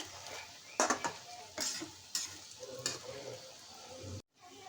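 Oil sizzles steadily as mint-leaf and greens-stem fritters fry, while a spatula scrapes and clatters against the pan several times, then the sound cuts off abruptly.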